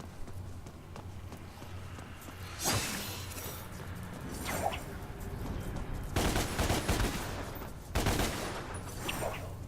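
Gunshots and scattered impacts in DmC: Devil May Cry sound over a busy action scene, with a few louder bursts standing out against steady background noise.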